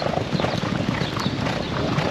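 A racehorse gallops during a morning breeze workout on the track at Churchill Downs. Fast, dense hoofbeats drum loud and close for the whole stretch, with no talking.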